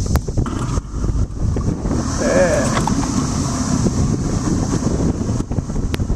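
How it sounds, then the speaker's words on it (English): Strong wind roars steadily across a small boat out on a lake, a constant loud rush that buffets the microphone, with a brief voice near the start. "It's really windy and it's really loud."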